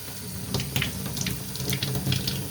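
Tap water runs steadily into a sink as a gunk-filled ink absorber pad from an HP Officejet 100 mobile printer is rinsed and squeezed, a close, continuous splashing stream with small irregular splatters.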